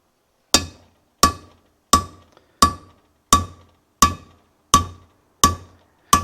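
A heavy hammer strikes a part of an Allis Chalmers C tractor engine during a rebuild, nine sharp ringing metallic blows at an even, unhurried pace, each one loud, close and decaying quickly, with no voices.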